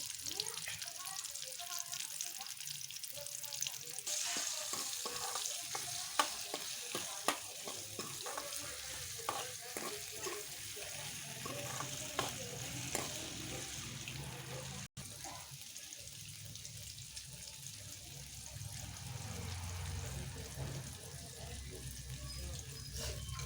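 Fish masala with ginger garlic paste, chili powder and spice mix frying in a pan, a steady sizzle with stirring clatter and some tap water running throughout.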